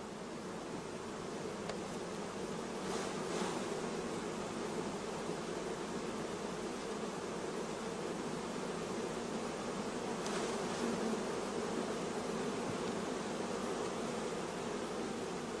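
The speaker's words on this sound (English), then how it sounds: "other bees can be shaken into the box after the frames have been closed up" Honeybees buzzing around a hive box as bees are shaken in, a dense continuous hum that stays even and steady throughout, close and moderately quiet, with no voices.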